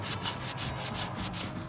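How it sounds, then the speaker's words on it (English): Wooden market display pieces are hand-sanded around their hinge hardware, about eight quick, rhythmic scraping strokes, close and steady with no talk. "So Trey is sanding around the hardware."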